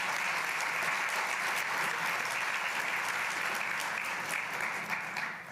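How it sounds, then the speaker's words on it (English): A conference audience at the Appalachian State of Region gathering gives a sustained round of applause, a thick, even wash of many hands clapping that tapers slightly at the end, heard alone without talk. "So if we could have a round of applause, let's show them some appreciation."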